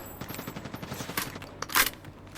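Rapid video game gunfire from a shooter, a quick run of evenly spaced shots followed by a couple of louder, sharper bursts, close and alone without talk.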